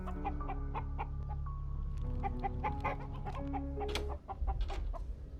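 A chicken clucks in the game Echoes of Magnus, with rapid choppy clucks over a steady musical drone, close and fairly loud.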